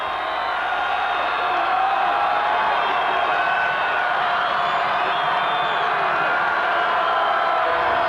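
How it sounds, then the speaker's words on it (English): Crowd at a 1992 high school football game between Oak Park and Blue Springs roars steadily in the stands, a loud, sustained wash of cheering and whoops with no break. "And listen to this crowd."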